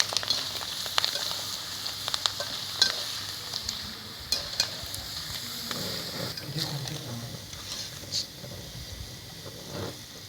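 Vadas fry in hot ghee in a pan, giving a soft, steady sizzle with scattered crackles and occasional stirring taps, fairly quiet, with a few brief spoken words.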